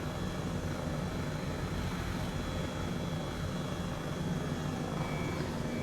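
A helicopter in Flight Simulator 2020 flies under autopilot, its engine and rotor making a steady, loud, broadband drone that holds unchanged throughout with no talking over it.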